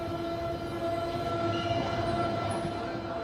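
Steady hum of an airport terminal train in motion, with a faint whining tone over a low rumble, fairly quiet and continuous.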